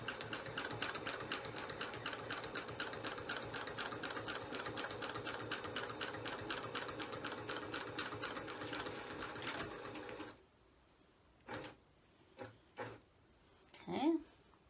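A sewing machine on a Cutie quilting frame bastes long stitches with a fast, steady mechanical rattle for about ten seconds, then stops. A few short voices and handling sounds follow.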